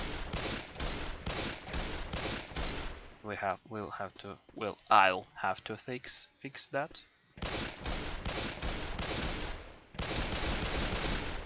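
Rapid Glock pistol gunshots from a modded Left 4 Dead 2 game, loud, dense bursts of shots in two long stretches either side of someone talking in the middle.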